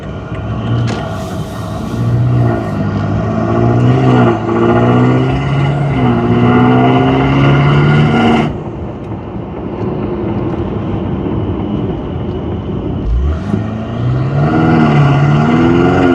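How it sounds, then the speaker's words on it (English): Loud, close exhaust from a BMW M5 fitted with a downpipe, Eventuri intake and stage 2 tune, climbing hard through several gear pulls, easing off to a steady drone, then accelerating again. "hopefully that will pick up the audio of the exhaust a little bit better"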